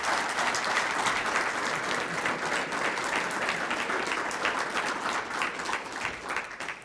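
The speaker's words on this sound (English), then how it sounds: "Could we give a quick round of applause to Master Sergeant Bond for all that he's accomplished?" A crowd applauds steadily throughout at a military retirement ceremony for Master Sergeant Bond, a dense, even clapping that holds for several seconds and eases slightly at the end.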